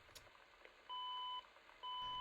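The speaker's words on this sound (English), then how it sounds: "If my phone happens to beep or ring" A phone gives two short electronic beeps, each about half a second long, spaced apart and fairly loud over a faint background hum, with no talking.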